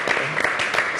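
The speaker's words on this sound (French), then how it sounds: "On applaudit pour ces dieux, il est merveilleux, il est merveilleux." A church congregation claps together in a 1-second stretch of steady, dense applause, loud and continuous, with a faint sermon or singing voice blurred underneath.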